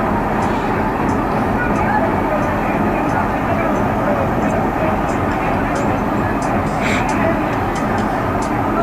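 Nakshikatha Express train waiting at Vanga Railway Station in Faridpur, giving off a steady, loud, broadband rumble that holds evenly throughout with little change.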